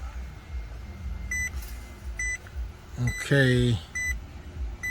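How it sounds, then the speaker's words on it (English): Maserati Quattroporte turn signal clicking, a faint regular series of ticks under a man's brief speech and a rising electronic tone in the middle. "we check the turn signal"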